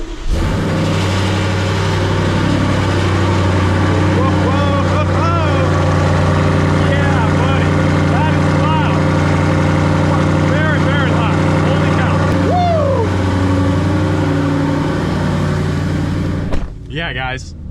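A tuned, high-mileage BMW M550i being driven in the snow, its engine holding a loud, steady drone with a few rises in revs, while a person talks over it throughout.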